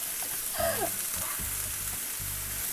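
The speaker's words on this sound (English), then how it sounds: "As you keep stir frying, there's less and less liquid in here." Vegetables for curry Singapore noodles stir-fried in a lightly oiled pan, with a soft steady sizzle and rhythmic tossing and scraping strokes close by, no one speaking.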